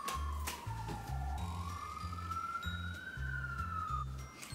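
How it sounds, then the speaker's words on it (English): A police siren wails in a slow rising and falling sweep on a Brooklyn street, fairly faint and moving past, over a rhythmic thumping background beat, with no talking. "it's like they won't put the sirens on unless they actually need them."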